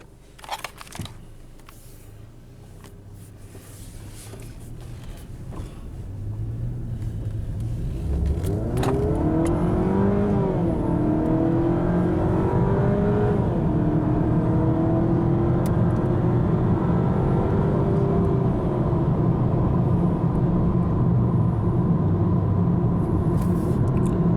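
A 2016 Chrysler 200 pulls hard from a standstill toward sixty, the engine note climbing loud and steady with a brief dip at a gear change, a constant interior drone heard from inside the cabin.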